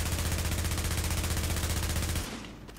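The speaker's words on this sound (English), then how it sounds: "Heavy machine gun." Heavy machine gun fire in the video game The Division, a dense, continuous, rhythmic rattle of rapid shots with a booming low end that stops abruptly near the end.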